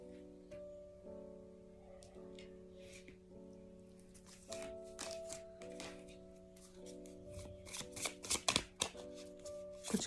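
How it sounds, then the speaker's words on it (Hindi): Tarot cards riffled and shuffled by hand, soft rapid flicks and taps growing busier and louder toward the end, over a sustained musical drone. "कुछ कार्ड्स इस डेक से पिक करूँगी"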